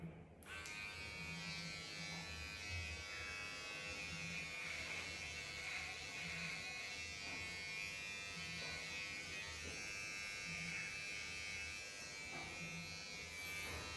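An electric hair clipper styles hair with a close, steady high buzz that runs throughout, faint voices murmuring underneath.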